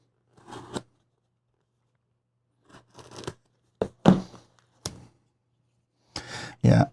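Cardboard knife box packaging being torn and opened, a series of short ripping and crinkling bursts separated by pauses, close and fairly loud, with the biggest tears near the end.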